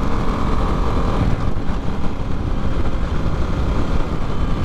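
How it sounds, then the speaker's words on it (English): A new Harley-Davidson Nightster motorcycle engine runs smoothly while riding, a steady loud low rumble blended with wind rush, continuous and close with no talk. "The engine is just so smooth."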